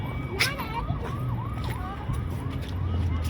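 A patrol vehicle passes at a riverfront with a wailing siren sweeping up and down in repeated cycles, moderately loud over traffic noise and faint voices.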